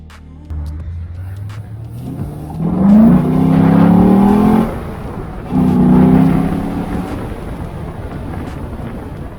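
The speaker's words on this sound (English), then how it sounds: "I'll give the car some gas and go over a fairly bumpy road" A car's engine revs up in two strong surges of acceleration over a bumpy road, the rising drone close and loud, with wind buffeting the microphone throughout.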